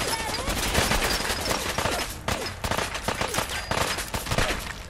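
Pistol gunfire in Fallout 4, with rapid overlapping shots cracking loudly and near in a dense fusillade throughout, a brief lull midway before the shooting resumes.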